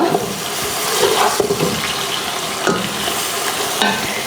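Fried onions with ginger-garlic paste, coriander and mint being stirred in a pot for fry peas biryani: loud continuous sizzling with scraping and mixing sounds throughout, close up and without speech.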